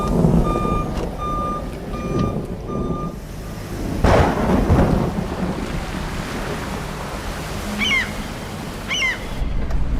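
A van reversing and turning around in rain, with repeated loud reversing beeps at the start, an engine rumble, steady rain and wind noise, and a few squeaky chirps near the end.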